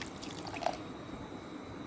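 Coconut milk pours into a pan while thick spinach kadaiyal cooks, making soft, faint liquid splashes and a brief drip-like plop in a quiet room before the sound tails off into low background hiss.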